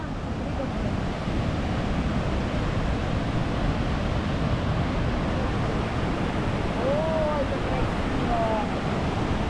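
Linville Falls in Pisgah National Forest, North Carolina, makes a broad, continuous roar of rushing water that stays loud and steady throughout, with faint voices in the background.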